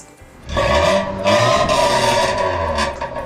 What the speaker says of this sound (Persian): اینم لوله راسته است اما تو خالیه، همون منبع بلوچی. صدای خیلی باز و باحالی داره.